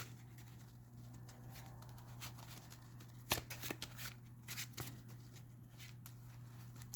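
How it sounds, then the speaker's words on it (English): A deck of trading cards being shuffled during a card game, faint riffling and soft patter in quick bursts with a couple of sharper snaps, heard alone against quiet room noise. "Let's shuffle things up again."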